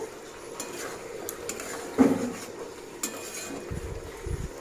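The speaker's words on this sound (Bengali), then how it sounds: "এরপর নাড়াচাড়া করে ভালোভাবে মিশিয়ে নেব" A drumstick and potato curry is stirred in a pan, giving faint scraping and a few soft clinks of a utensil against metal over a low simmer, with one louder knock partway through.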